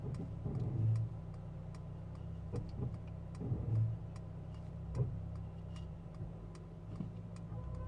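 A 2024 Mercedes-Benz GLC 43 reverses on its own while self-parking, a low steady engine drone with a soft ticking blinker running throughout.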